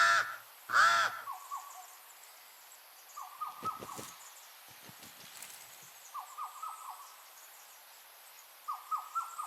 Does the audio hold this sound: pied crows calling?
yes